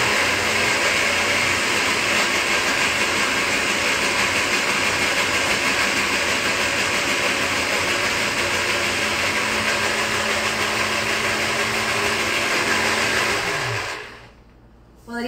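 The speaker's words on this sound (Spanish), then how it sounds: "Y esto lo vamos a colocar en la licuadora." A kitchen blender whirs loudly and steadily while mixing the liquid ingredients for onion bread, a constant high motor whine that winds down and stops near the end.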